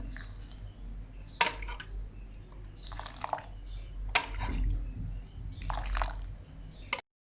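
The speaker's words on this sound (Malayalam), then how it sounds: "അതേ അളവിൽ തന്നെ 4 ടേബിൾ സ്പൂൺ ചൂടുവെള്ളം കൂടെ ഞാൻ അതിനകത്തോട്ട് ഒഴിക്കുന്നുണ്ട്" Hot water trickles and splashes into a bowl of instant coffee and sugar for Kerala-style dalgona coffee, in several short pouring bursts close by, with quiet pauses between.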